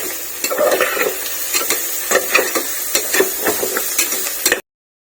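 Cooking food stirred with turmeric powder in a pan, brisk scraping and clacking spoon strokes over a light sizzle, close and loud, ending in abrupt silence, no voices.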